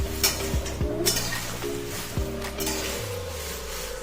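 Whole spices for Kolhapuri masala dry-roasting without oil in a pan over low heat, with steady stirring scrapes and light clinks of a spoon against metal throughout, close and moderately loud.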